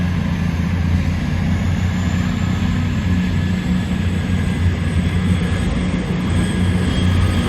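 Class 220 and Class 221 diesel multiple units pass through Didcot Parkway station, a steady loud engine drone and rumble with rolling wheel noise sustained throughout.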